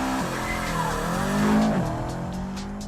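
A modded Subaru 22B drives around a circuit in Assetto Corsa. The engine holds a loud, buzzing drone that dips and climbs as the tires squeal through a corner, with no talking over it.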